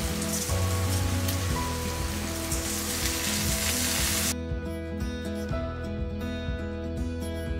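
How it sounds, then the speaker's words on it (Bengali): Rice tipped into hot spiced oil for a Bengali fish head curry sizzles loudly and steadily. The crackle is close and dense, and it drops sharply to a quieter simmer partway through. "এবারে আমি চালটা দিয়ে দেবো,"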